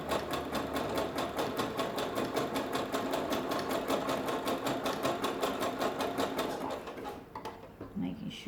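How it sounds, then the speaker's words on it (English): A sewing machine runs steadily while top stitching elastic onto knickers, a continuous close whirring with a regular needle rhythm that stops near the end, followed by faint handling sounds. "we're just nearing the ends now of our top stitch"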